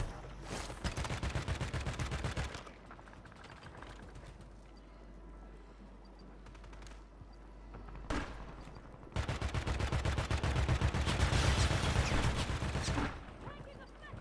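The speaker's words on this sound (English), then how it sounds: "These guys from the hill are shooting me through the fucking wall." Video game gunfire comes in rapid, crackling bursts that start, pause, and resume over a steady background. The shots sound close and sharp, with faint voices at times.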